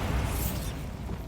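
Bombarda spell explosion in the video game Hogwarts Legacy, a single close, heavy burst with a bright crackling top that fades quickly into a rumbling tail.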